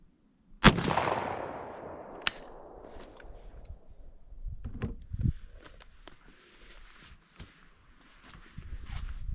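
A single sharp, loud blast from a Stevens 301 .410 shotgun loaded with Viper ammo, fired outdoors at a turkey target, followed by a fading outdoor decay and soft rustling and footsteps.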